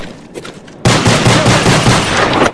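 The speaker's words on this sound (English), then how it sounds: "who's shooting me?" Loud, close automatic gunfire in a tournament video game match, a rapid burst of rattling shots that starts abruptly after a quieter moment and keeps going.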